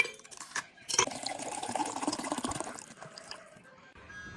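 Water pours and trickles into a glass holding ice for a super greens drink, a soft, close splashing fill that runs steadily for several seconds.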